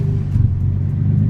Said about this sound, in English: Your car's idling like shit